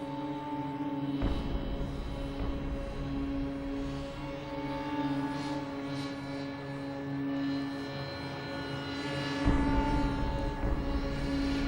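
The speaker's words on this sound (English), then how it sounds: "Just let me bring my helicopter down." A helicopter flying overhead gives a steady engine hum with strong tonal rotor whine, continuous for the whole stretch with a slight swell near the end, and no talk over it.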